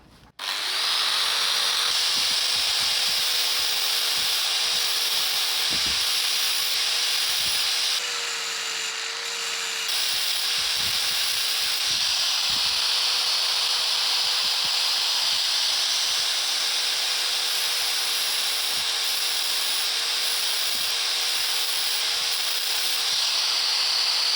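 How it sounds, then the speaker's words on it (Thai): An angle grinder cuts a groove into a steel dart, whining loud and continuous with a high hiss that briefly dips and shifts pitch before resuming its steady grind. "เดี๋ยวเจียกันเลยนะ"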